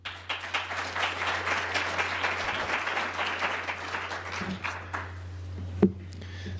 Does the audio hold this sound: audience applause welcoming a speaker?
yes